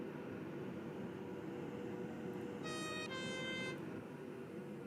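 A video game train horn on an APT tilting train blares in two short chord-like blasts over a steady low engine rumble.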